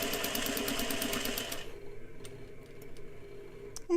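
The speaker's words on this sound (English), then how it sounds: "pinch, and sew down that pinch 4 inches to make the tuck" Sewing machine stitching a tuck in fabric, a rapid even whirr of needle strokes that stops after about a second and a half, leaving quiet handling clicks and a faint thump.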